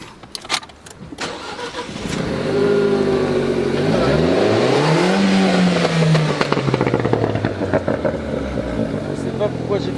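A cold car engine cranks and starts, then revs up in a rising and falling sweep before settling into a loud rumbling idle, with short voices around it at the start.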